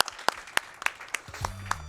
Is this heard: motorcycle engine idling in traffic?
no